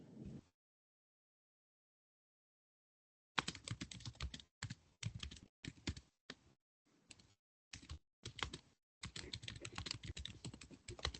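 Typing on a computer keyboard during a task force meeting: dense bursts of close, clicky keystrokes in irregular clusters with short pauses between them, after a brief opening sound and a few seconds of silence.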